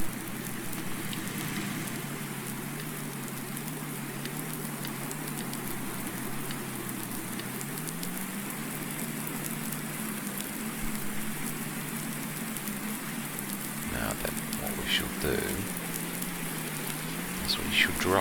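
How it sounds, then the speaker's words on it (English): Rain falls steadily over farm fields in Farming Simulator 19, a constant soft patter with a low engine hum underneath and a few brief clicks near the end. "Lovely, there's the rain."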